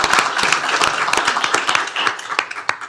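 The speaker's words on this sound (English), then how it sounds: "So let's give a round of applause to Judge" Applause at a county commissioners court meeting for a former district court judge marking 30 years with the county, close, sharp individual claps from a modest group, steady and moderately loud throughout.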